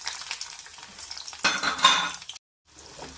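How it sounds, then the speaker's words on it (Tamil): About ten small onions sauté in hot oil with tempering spices for a dried-fish curry. Close sizzling and stirring scrapes come with a few utensil clinks, swell briefly, then drop to a short silence before the frying resumes. "வெங்காயம் நல்லா வெந்து வர்ற வரைக்கும் கொஞ்சம் நல்லா வதக்கிக்கிடுவோம்"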